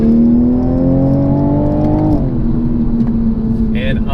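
A 2020 Toyota GR Supra sports car engine hums loudly and climbs steadily in pitch, then drops back to a steady drone as the revs settle.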